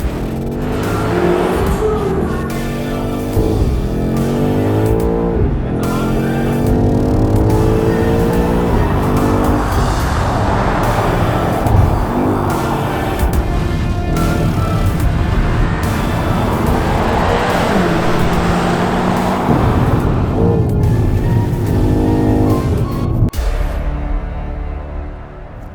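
A 2.8-tonne BMW XM SUV launches and accelerates hard up the wet Simola hillclimb, its engine note rising through repeated gear changes, with tyre noise and a loud, sustained roar before it cuts away near the end.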